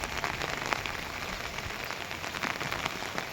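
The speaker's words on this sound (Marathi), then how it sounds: "आठ दिवस झालं थोडासुद्धा पाऊस उघडला नाही" Heavy monsoon rain pours down steadily with no letup, a dense, even hiss of drops drumming on surfaces close by, with runoff water flowing along the road.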